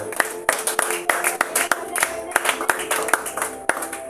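A church congregation claps along in a lively, rhythmic beat of sharp, repeated hand claps, with voices faintly present beneath.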